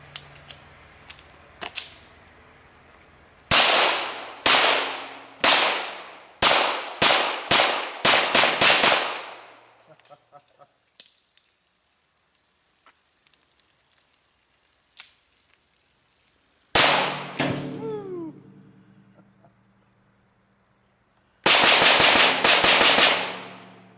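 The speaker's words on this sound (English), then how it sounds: "there's nothing more fun than plinking with a 22" A .22 rimfire being plinked, sharp cracking shots in quick bursts and rapid strings with quiet gaps between, several clusters of fast fire, close and loud.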